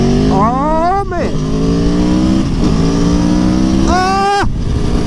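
A motorcycle engine revs hard through rising gear pulls, climbing in pitch, dropping at each shift, then surging again near the end, loud and close on the road with heavy wind rush.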